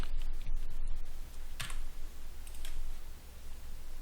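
A computer keyboard is typed on in short bursts of quick, close key clicks, with a few louder taps spaced out against a steady background hum.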